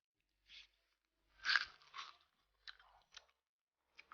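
Close, crisp crunching as someone bites into and chews a raw taro stem, a few separate wet crunches and smacks with short silences between them.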